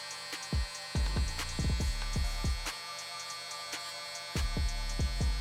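Cordless electric hair trimmer buzzing steadily close up during a blurry fade haircut in a barbershop, with repeated short thumps and taps from handling as the blade works along the head.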